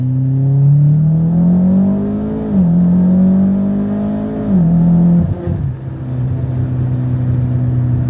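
A Mitsubishi Evo pulls hard in second gear during a logged run, the engine note climbing steadily under load, dipping briefly at about 2.5 and 4.8 seconds, then falling back to a lower steady drone, loud and close, no speech.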